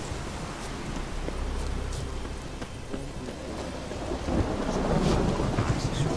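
Heavy rain pours and thunder rumbles in The Witcher 3 storm, a dense roar of rainfall with low rolling thunder that swells louder toward the end, no voices over it.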